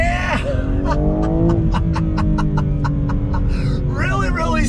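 A 2021 BMW M3 Competition accelerates hard, its engine note loud and close with a steady, gradually climbing drone and a rapid series of sharp, evenly spaced crackles partway through.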